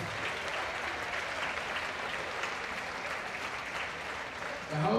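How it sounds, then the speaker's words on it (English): Steady applause from a crowd honoring IBEW Local 21 electrical workers at a Gingerbuild charity event, an even wash of clapping that runs throughout at moderate distance, swelling slightly at the very end. "special round of applause for them"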